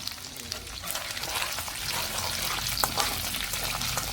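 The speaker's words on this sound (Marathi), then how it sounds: "हळूहळू फिरवायचं, जेणेकरून ते व्यवस्थित फ्राय झालं पाहिजे." Sliced cabbage fries in a pan with steady crackling sizzle while a spoon stirs it through, scraping sounds rising over the continuous hiss at close range.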